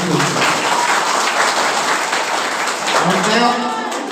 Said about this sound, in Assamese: তেওঁৰ কাৰণে সকলোৰে এটি হাত তালি দিব বুলি অনুৰোধ কৰিছোঁ।